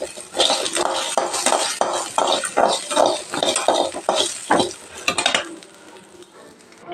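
Dry red chillies and curry leaves fry in a pan for a chutney: rhythmic stirring scrapes and clinks over a light sizzle, busy at first, then quieting near the end.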